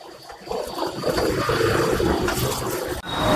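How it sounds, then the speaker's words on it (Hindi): Water is poured into a cement and polymer bonding-agent mix, giving a continuous rushing, splashing wash that swells and holds steady for about three seconds before breaking off. "अभी हम पानी मिलाएंगे"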